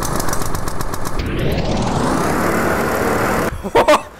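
A small video-game go-kart engine with a CVT starts and revs up into a rising, buzzing drone, then cuts off near the end with a few clunks.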